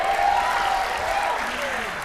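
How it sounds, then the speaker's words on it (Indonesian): Steady applause from an audience fills the whole stretch, with a voice speaking over it. "tepuk tangan untuk Saiful."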